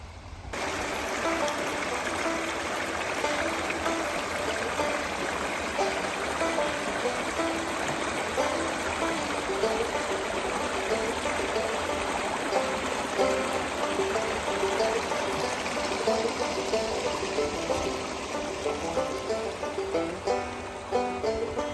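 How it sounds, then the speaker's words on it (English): A catch and release stream flows steadily outdoors on a chilly day, its continuous rushing and trickling water close and fairly loud throughout, with no pauses. "So this is a catch and release stream."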